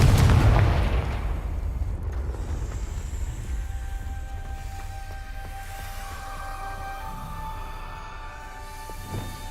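A Confringo blasting spell in Hogwarts Legacy bursts loudly at the start, and its low boom decays over a couple of seconds into quiet, tonal ambient music.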